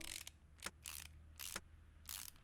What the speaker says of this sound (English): let's screw the head bolts in.